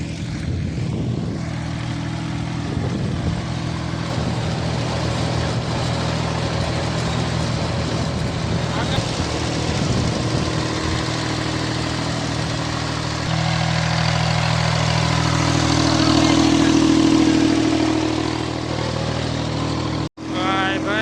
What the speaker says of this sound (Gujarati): બીજું ટ્રેક્ટર આવી ગયું હોય, બે ભેગા મૂકી દીધા હે